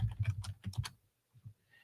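Quick bursts of typing on a computer keyboard, a rapid cluster of close clacks followed by a pause and a few softer, scattered keystrokes.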